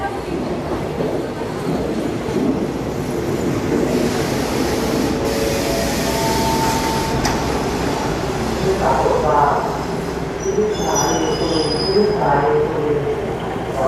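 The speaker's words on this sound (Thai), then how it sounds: "อนนี้รถไฟกำลังจะเทียบชันชลา ที่ สถานี รถไฟสุรินทร์นะครับ" A train rumbles and rolls steadily along the rails, with brakes squealing in high-pitched bursts as it slows into the platform at Surin railway station, Thailand; a voice speaks faintly underneath.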